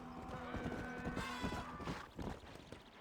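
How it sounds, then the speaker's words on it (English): A horse's hooves clip-clop in a brisk, uneven rhythm in the Red Dead Redemption video game, fairly close and fading slightly toward the end. "let's hitch the horse"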